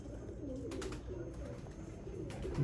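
A Salara Teddy pigeon coos softly in a low, rolling series of throaty notes, fairly close, with light background noise and no talking.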